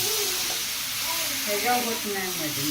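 Dosa batter spread over oil on a hot pan sizzles in a constant close hiss, with a voice speaking over it throughout.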